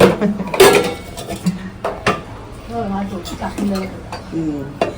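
Steel pots and utensils clattering in a home kitchen as they are pulled out, with sharp metallic clanks and clinks scattered between people talking nearby.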